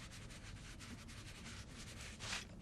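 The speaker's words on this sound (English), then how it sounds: "I am going to rub a little bit of it off first before I start to rub over the cardstock" Vintage Photo ink rubbed over cardstock with an applicator, a soft, steady close-up scrubbing hiss in quick repeated strokes, faint and alone, with one slightly louder swipe near the end.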